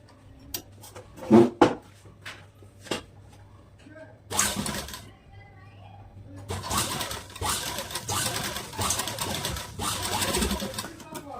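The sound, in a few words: sewing machine stitching blouse shoulder seam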